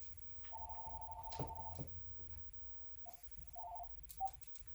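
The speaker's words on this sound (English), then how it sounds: "My phone is ringing." A phone rings indoors with short electronic tone bursts, a longer steady tone early and then several brief beeps, faint and interrupted by small knocks and handling sounds.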